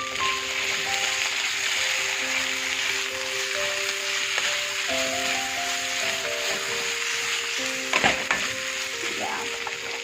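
Drumstick pulp stirred into a mixture in a pan, giving a steady close sizzle with soft scraping strokes throughout, a few tonal hums in the background and a brief clatter near the end; no one talks.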